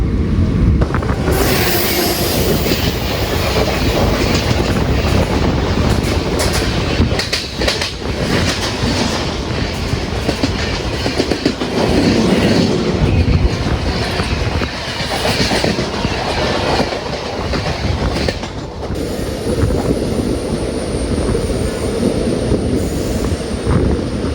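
The Island Express, a KSR Bengaluru to Kanyakumari train, passes on the rails near Angamaly station in Kerala: a loud, sustained rumble with rhythmic wheel clatter and squealing over nearly half a minute, with no voices.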